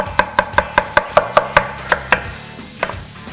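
A knife julienne-cutting onion on a board, a steady run of about a dozen crisp chops close by, evenly paced then slowing with a few final taps, with no voice over them.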